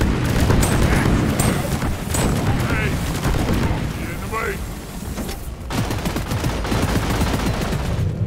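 Dense, continuous automatic gunfire from the Deep Rock Galactic co-op shooter on a Hazard 5 mission with a Gunner, loud and sustained across the whole stretch with brief dips and explosive bursts, voices talking over the barrage.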